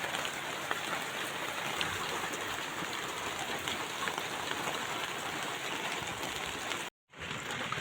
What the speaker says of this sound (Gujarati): જો બહાર તો વરસાદ આવી ગયો